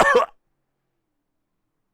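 A single short cough up close, followed by silence.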